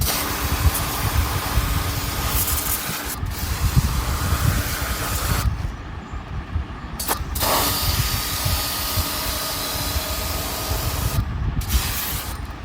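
Water spray gun washing an air conditioner unit during a full open service, a steady loud hissing spray with a low rumbling undertone, briefly interrupted a few times as the jet pauses or shifts.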